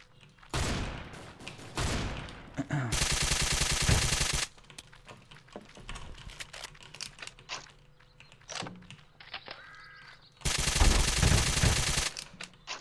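Bursts of SMG fire in the battle royale video game Island Royale: two long, loud, rapid strings of automatic shots, plus a sharp burst near the start, with quieter thumps, clicks and movement noises between them.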